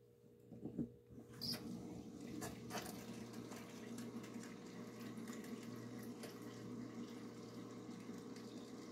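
Water pouring steadily from a tap or jug into a measuring container while making raisin cinnamon bread, a continuous low splashing rush that starts after a brief clatter and runs evenly to the end.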